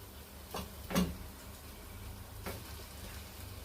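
Marinated chicken goes into a hot pan with tomato and masala for a Kerala-style chicken curry with coriander leaves and green chilli. A quiet sizzle runs throughout, broken by a few soft clatters as the pieces go in.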